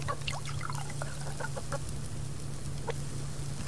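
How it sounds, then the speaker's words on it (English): Hens cluck in the survival video game Subsistence, a scatter of short clucks and chirps over a constant low hum, with no talking. "Let's see what kind of snacks I have for these hens here."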